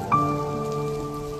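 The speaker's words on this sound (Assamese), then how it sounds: "এই বৰষুণ আমি সাঁচো" Steady rain falls across the whole stretch, an even close patter with a faint sustained tone running beneath it and no voices.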